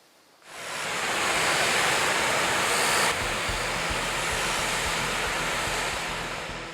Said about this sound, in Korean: 시원한 물소리가 더위를 식혀줍니다.